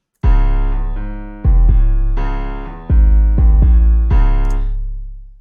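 A deep, boomy 808 bass with boosted low end plays a rhythmic line of long decaying notes together with piano chords, loud and close, with no talking.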